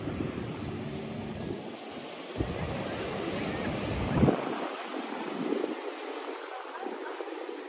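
Sea waves wash onto Cát Cò beach on Cát Bà island, a steady broadband surf roar with wind noise buffeting the microphone and one louder swell near the middle, no talk.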